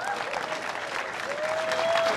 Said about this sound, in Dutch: En een heel groot applaus voor deze